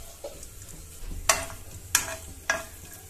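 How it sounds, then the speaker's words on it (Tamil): Mustard seeds and chana dal crackle in hot oil while tempering for aloe vera chutney, three sharp pops rising over a low sizzle, close and fairly loud. "இப்போ கடுகு கடலைப்பருப்பு நல்லா பொரிஞ்சதும் ஸ்டவ் ஆஃப் பண்ணிரலாம்"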